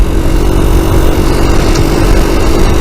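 A small Suzuki FL125 motorcycle engine drones steadily at a constant pace, loud and close, with wind buffeting mixed into the hum, not revving out as freely as before, on an early-morning ride down country lanes.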